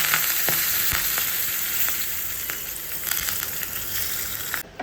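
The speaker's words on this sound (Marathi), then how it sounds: "तेल गरम झालं आहे. राई घालायचे, हिंग, गॅस बंद करूया." Mustard seeds, hing and curry leaves sizzle and crackle in hot oil as a tempering for chutney, a dense steady hiss with scattered sharp pops, close and fairly loud, with no talking.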